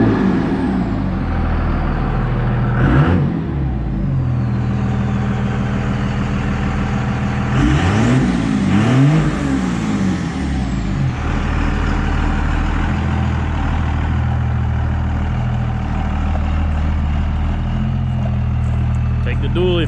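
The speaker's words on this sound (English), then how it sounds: "Take the dually for a spin." A dually pickup truck engine idling and revving, a loud steady diesel-like rumble with two rising rev bursts partway through, close by with a voice speaking over it.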